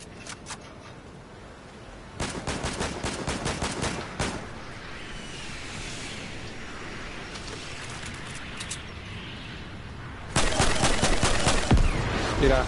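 Video game gunfire in bursts: a rapid volley of sharp shots, a long stretch of low rumbling ambience, then another loud burst of automatic fire near the end, with no talking.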